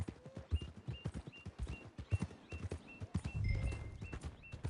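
Horse hooves clip-clopping in the Red Dead Redemption 2 video game, a steady walking rhythm of close, crisp hoof strikes heard clearly against quiet game ambience.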